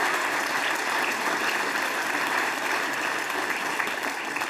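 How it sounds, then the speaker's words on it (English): A live theatre audience at a comedy show applauds for a woman named Tina, a sustained, even wash of clapping from a large crowd with no voices on top. "Give her a round of applause."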